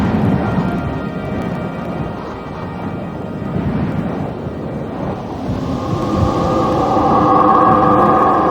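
A forest thunderstorm: low rolling thunder rumbles beneath steady rain, building louder toward the end.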